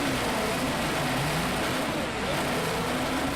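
A pack of 22 race cars in Project Cars 2 roars together on a snowy track, a dense, loud, unbroken engine drone with no gaps or pauses throughout.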